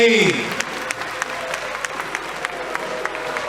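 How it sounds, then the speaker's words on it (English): An audience at a political campaign launch for a party flagbearership race applauds a speaker, with a brief voice at the start, then steady clapping continuing throughout at moderate loudness. "A round of applause for"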